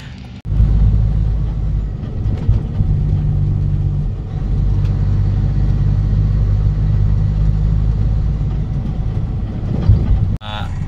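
A truck and trailer engine runs up close with a loud, deep, continuous rumble, which briefly cuts out near the start and again near the end.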